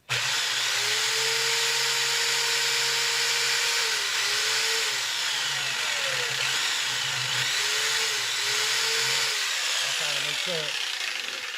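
A power tool cuts the head of a wooden guitar neck, its loud, sustained whine dipping and rising in pitch as it works through the rough cut, close and continuous.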